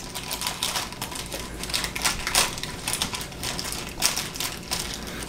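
Scissors snip and crinkle through a Krusteaz waffle mix package, a run of sharp close-up cuts and plastic rustles repeating in a fairly regular rhythm.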